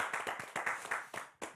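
A small live audience at a Gomel evening event claps briefly, a short, fairly faint burst of uneven applause with no talking.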